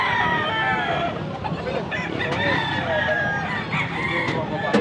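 Roosters crow loudly several times at a Sunday chicken auction, overlapping with clucking hens and a busy crowd of voices talking nearby.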